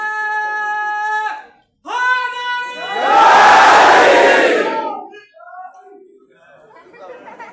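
A crowd at a Sunni religious gathering roars back in unison, a loud massed shout swelling for about two seconds after a man's amplified call, then fading into scattered voices and talk.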